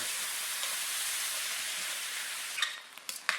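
Vegetables and seasonings for a one-skillet shrimp burrito bowl cook in a skillet with a steady, hissing sizzle, followed by a few short scraping stirs at the end.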